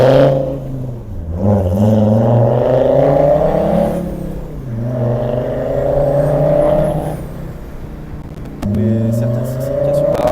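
An old Mercedes C250 Turbodiesel engine, fitted with a truck turbo and 400,000 km on it, revs loudly, rising and falling in long sweeps with a brief drop before climbing again, close and continuous.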